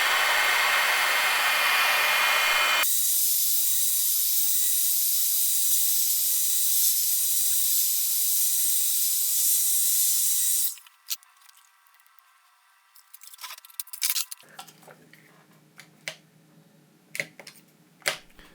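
A heat gun set to 180 to 200 °C blows hot air over an LG K50S phone screen, a loud steady whooshing roar that cuts off abruptly, followed by faint clicks and taps from handling.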